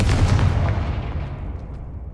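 A Confringo blasting spell goes off in Hogwarts Legacy, a heavy explosive burst already underway that rumbles and fades out over two seconds, alone without talk.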